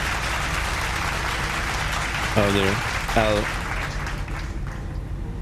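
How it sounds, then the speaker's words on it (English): Passenger cabin applause in a Fenix A320 flight simulator after landing, a steady broad clapping wash under brief talk from the pilot. "Hey, thank you for the applause."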